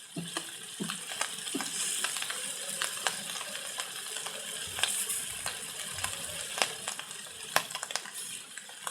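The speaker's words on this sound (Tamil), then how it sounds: "எண்ணெய் நல்லா காஞ்சதுக்கப்புறம் மீனையெல்லாம் இந்த மாதிரி வரிசையாக அடுக்கிக்கிறலாம்." Fish fry in oil on a tawa with quiet, scattered crackles and sharp little pops over a soft, steady background sputter.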